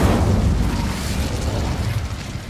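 The Incendio fire spell is cast in Hogwarts Legacy, a loud, steady roaring burst of flame sustained for a couple of seconds with deep rumbling underneath and no talk.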